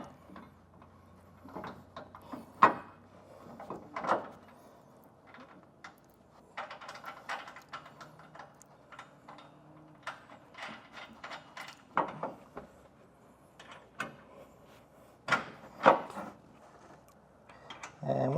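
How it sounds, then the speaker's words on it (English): Flange nuts being threaded by hand onto the bolts of a Curt EZr double lock underbed gooseneck hitch, with scattered close metallic clicks, scrapes and light taps in an irregular rhythm against a quiet background. "take those flange nuts that we had and just get this started to hold it in place for us."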